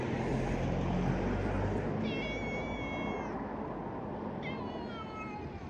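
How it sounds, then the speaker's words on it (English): Cats meowing outdoors, two harmonic meows heard in succession over a steady background drone that resembles a passing propeller aircraft, with no talk. "Your cats are meowing up."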